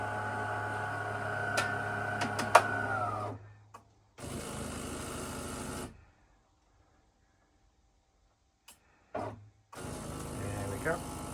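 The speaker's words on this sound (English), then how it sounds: "There's the coffee going in" An AFERIY P280 coffee machine dispenses coffee with a steady mechanical hum and pump drone, which pauses, resumes briefly, goes quiet, then starts again, heard up close with a few small clicks.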